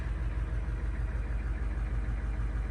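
A 1973 truck with a 7.3L engine idling, heard from inside the cab as a steady, quiet, low rumbling hum with no talk over it.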